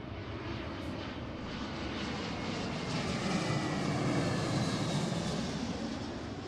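A Delta airliner comes in to land on runway 34 left at Seattle, its engines a steady broadband roar that swells slightly toward the middle before easing, heard from an outdoor spotting position with no talk.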